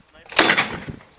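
A single MK 19 grenade launcher round fires on a military qualification range, giving a sharp, loud boom that rolls off into a short decaying rumble, heard alone without talk.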